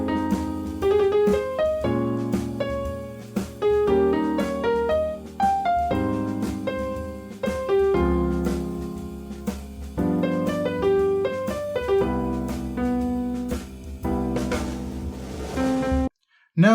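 A melodic instrumental line over sustained chords, with rich, extended harmonies and a steady, flowing rhythm that continues for several phrases before stopping abruptly.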